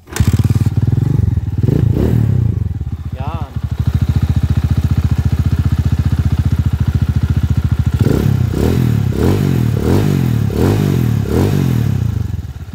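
A Honda TMX155 motorcycle converted to 200cc rides on a test drive by a fish pond, its engine droning loudly and steadily with several revving surges that rise and fall near the end, alone without talk.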